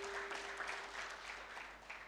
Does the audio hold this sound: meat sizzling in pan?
no